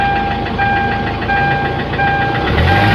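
A Hyundai Santa Fe 2000-model engine with a rebuilt turbo, smoky and low on power, runs with a steady loud idle and a rapid rhythmic ticking knock, plus a faint high whine throughout.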